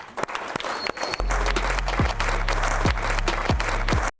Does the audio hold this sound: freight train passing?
no